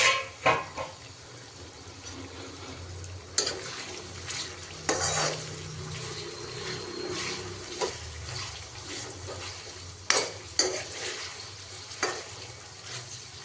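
A spoon scrapes and stirs through a thick brinjal and tomato curry in a pan, with a low simmer underneath and occasional sharp clinks against the metal.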